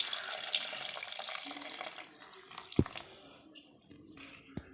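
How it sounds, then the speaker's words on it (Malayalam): Water is poured into a mixer jar holding fenugreek powder and chilli powder for a Kerala ribbon fish curry paste. A steady splashing pour runs for about two seconds, then thins to trickles with a few sharp clinks near the end. "ഇതിലേക്ക് നമുക്ക് വെള്ളം ഒഴിച്ച് കൊടുക്കാം."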